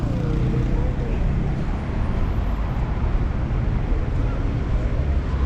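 Night road traffic in Addis Ababa, with public taxis passing, forms a loud, continuous roar and rumble, steady throughout without distinct breaks.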